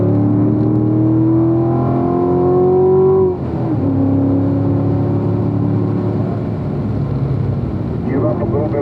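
A Chevrolet Corvette accelerates hard on the Spring Mountain race track, its loud, close engine note climbing steadily before a brief dip at a shift, then pulling strongly again.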